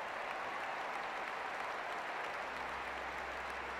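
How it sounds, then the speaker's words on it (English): Distant crowd applause filling Olympic Stadium in London during the 2012 Paralympic athletics, a broad steady wash of clapping with a low rumble joining toward the end. "round of applause"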